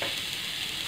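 Ponnaganti greens and dal mixture frying in a pan, a brief steady hiss of sizzling, close and moderately loud, with no voice.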